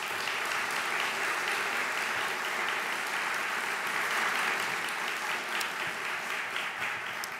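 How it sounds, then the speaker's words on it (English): Audience at a technology conference's opening remarks breaking into a round of applause for a staff member; dense, sustained clapping from a large crowd, loud and even throughout without speech. "Give her a round of applause"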